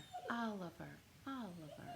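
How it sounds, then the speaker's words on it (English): A pet dog whimpers indoors at home, giving two thin, high, wavering whines with a short gap between them, faint and close, with no talk over them. "here's the dog"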